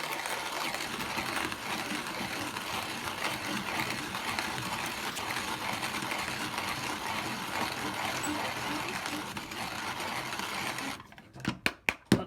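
1930s Zassenhaus 334 Record hand coffee grinder crushing about two grams of coffee beans, a steady close grinding rasp that runs for about eleven seconds, then a few separate knocks and clicks as it finishes.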